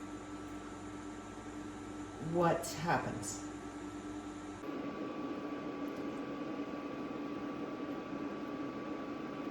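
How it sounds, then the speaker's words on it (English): A kitchen cooker boiling water gives off a steady broadband hiss and hum in the background, with a brief spoken voice near the start. "What you hear in the background is the cooker because I'm boiling some water"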